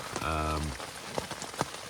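Rain patters steadily on a campsite along a hiking trail, a soft continuous wash with scattered louder drops, and a brief voice or tone near the start.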